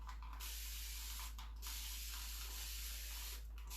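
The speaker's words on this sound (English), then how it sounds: "First thing we do is we spray down the cushion." A continuous-spray mist bottle dampens a cushion with a steady, close hiss that runs almost unbroken, with a few brief dips in the spray.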